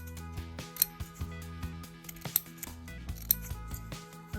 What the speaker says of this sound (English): just trim right up to the thread, don't cross the thread. Make little snips all the way around.